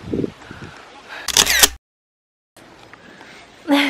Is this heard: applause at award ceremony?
no